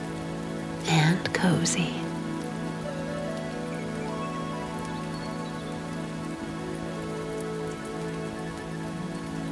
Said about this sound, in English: You can carry on listening to the rain